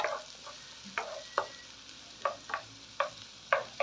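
Wilted onions frying in margarine are stirred in a pan, with spoon scrapes landing at an uneven pace over a steady background sizzle, close and moderately loud, with no voices.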